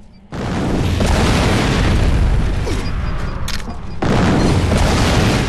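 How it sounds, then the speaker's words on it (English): Loud, sustained booming blasts from subsonic grenades in the video game Fracture, blowing apart sets of crates and leaving craters; a dense explosive roar fills most of the clip, dipping briefly before a second heavy burst. "These are subsonic grenades. They're highly explosive and leave behind a crater."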